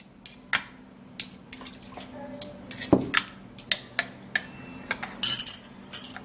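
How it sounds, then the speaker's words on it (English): A utensil stirs a melted Vaseline and onion mixture in a container, producing close, irregular scrapes and clinks against the sides with faint wet swishing between them. "what we'll do is transfer it into here, and then we stir it"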